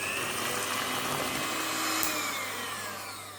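An electric mixer whisks cream for a spinach cake, giving off a continuous, steady high-pitched motor whine that stays loud and close, with no talking.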